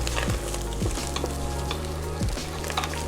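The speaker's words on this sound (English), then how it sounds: "And the garlic goes in, all of it. And we stir everything together." Onion and garlic fry in a pan for a meat sauce while a utensil stirs through them, giving a steady close sizzle with a few scraping strokes and no talk.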